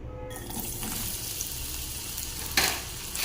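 Cumin and garlic sizzling in hot oil in a pan while making beetroot chutney, a steady close frying hiss with a brief louder crackle partway through and no speech.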